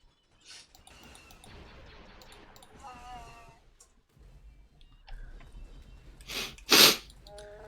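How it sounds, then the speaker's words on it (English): A person sneezes, one sharp, loud burst near the end after a quieter stretch of faint clicks and a brief voice. "are you sneezing now?"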